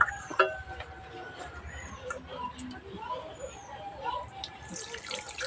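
Water is poured into soft, kneaded maida (flour) dough in a home kitchen, a faint, wet trickle and splash under low background voices.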